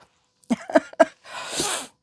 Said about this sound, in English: I feel like I've got a sneeze